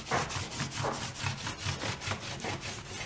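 A green Scotch-Brite pad scrubs dirty floor mats in quick rhythmic back-and-forth strokes, a close, rough scratching that repeats about every half second.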